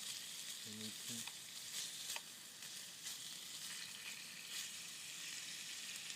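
Squirrel meat fries in an old frying pan outdoors in the woods, a faint, continuous crackling sizzle with scattered pops and a brief low thump near the start, no voices.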